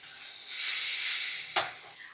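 Water splashed onto spiced chana dal in a hot pan, a soft rising hiss that swells and holds, then a brief sharper burst of sizzle.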